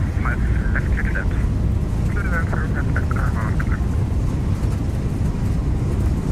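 Airbus A321 jet engines at takeoff power in the X-Plane 12 simulator, a steady loud broadband roar and rumble throughout, with brief tonal chirps early on and a voice talking over it.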